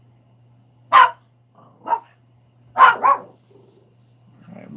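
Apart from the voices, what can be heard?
dog barking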